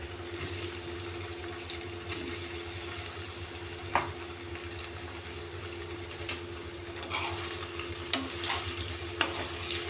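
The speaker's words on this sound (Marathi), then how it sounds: "आणि हलकासा ब्राऊन कलर येईपर्यंत याला फ्राय होऊ द्यायचं" Paneer frying in extra oil in a kadhai makes a soft, steady sizzle with a low hum beneath and a few sharp clinks of stirring scattered through.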